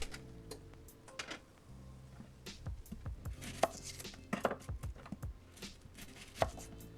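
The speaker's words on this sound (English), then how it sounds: "I guess you probably want to cut the onion up kind of small" A knife chops onion on a cutting board while cooking birria tacos, with close, uneven bursts of quick cuts and short pauses between them. No one speaks.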